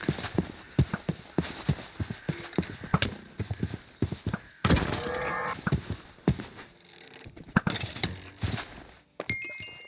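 Rapid, clattering video game skeleton horse hoof clops come in quick bursts, close and busy, with a brief rattling mechanical patch midway and short pauses between runs.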